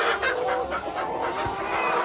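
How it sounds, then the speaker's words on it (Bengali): Sonali parent hens about 110 days old, nearing laying age, cluck steadily in a rough repeated 'kok kok', a dense close chorus that fills the whole stretch. "মুরগিগুলা আলাদা করে কক কক কক কক শব্দগুলো করে"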